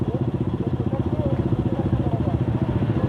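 A motorcycle engine idles and chugs in a fast, even pulse during a water crossing near Pangong Tso lake in Ladakh, loud and close.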